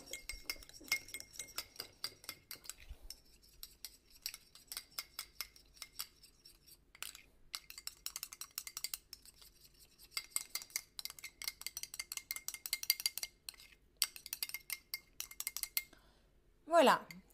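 Oil, vinegar and mustard vinaigrette being stirred or whisked in a bowl, rapid repeated clinks and taps of metal against the dish in bursts with short pauses, close and fairly quiet, with brief speech at moments.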